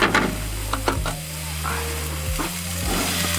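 Vegetables sizzling and frying on a Blackstone 17-inch griddle with rangetop, a steady near hiss with a few scraping stirs, no talking.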